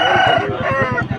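A one-year-old rooster at the Vijayawada rooster market crows once, loud and close, with faint voices in the background.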